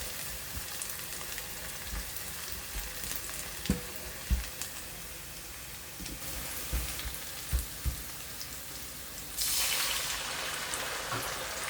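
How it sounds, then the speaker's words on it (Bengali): Onion and garlic fry in hot oil with a steady, close sizzle, broken by a few soft stirring knocks. Near the end the sizzle swells into a brighter, louder hiss. "আমি পেঁয়াজ আর রসুন এখানে দিয়ে দিছি, ভাজা ভাজা হচ্ছে"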